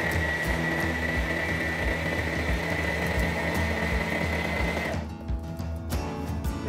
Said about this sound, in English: I'm just gonna sew a straight line down the edge to put it together into a tube.